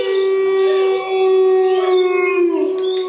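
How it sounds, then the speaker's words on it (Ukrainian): A wolf howls in one long, steady, tonal cry that holds its pitch for about three seconds and bends slightly near the end. It is loud and close, with no talk over it. "А це вовк."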